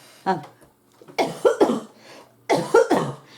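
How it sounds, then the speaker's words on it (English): Several harsh coughs close to the microphone: one single cough, then a burst of two or three, a pause, and another cluster of rapid coughs. "The more I talk, the more I cough."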